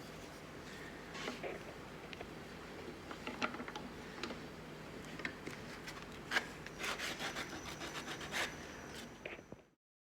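Sandpaper is rubbed along the sharp edge of a wooden float handle in short, scratchy strokes with light taps between them, faint and close. The sound stops abruptly near the end.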